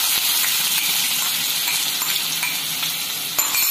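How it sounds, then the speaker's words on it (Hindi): Sliced onion and green chilli hit hot oil for street-style paneer bhurji, producing a loud, continuous frying hiss, broken by a few sharp utensil clicks against the pan. "तेल गर्म हो गया है तो इसमें पहले ये प्याज और ये मिर्ची है"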